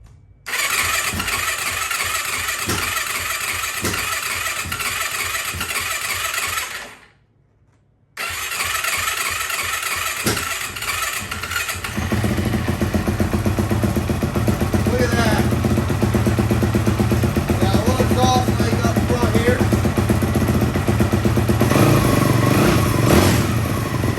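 A 2004 Yamaha YFZ450 ATV engine with a new exhaust cranks and sputters, cuts out briefly, then catches and settles into a loud, steady rumbling idle.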